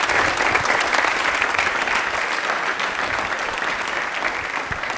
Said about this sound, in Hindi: तालियां हो जाए दिया के लिए प्लीज, एक बार जोरदार